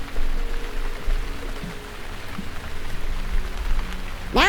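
Soft, steady pattering of fingers tapped on a palm to imitate light rain, a continuous close patter with no talk.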